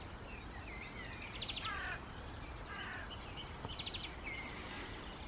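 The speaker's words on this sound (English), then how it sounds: "and the sound of the birds." Morning birdsong in a forest: faint chirps and short trilled bursts repeat a few times over quiet, steady background hiss, distant and sparse with no talking.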